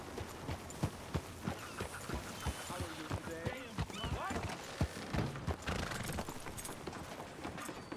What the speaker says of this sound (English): Can we please hitch the horse?